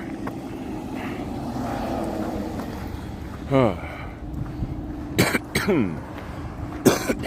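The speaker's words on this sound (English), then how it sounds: "Still coughing up phlegm." Several short, harsh phlegmy coughs from a winter cold burst out over a steady engine rumble, the first around midway and a cluster near the end.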